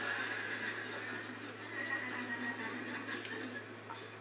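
A mare neighs softly on a farm: a faint, drawn-out whinny sits low under steady background hiss, with no speech over it.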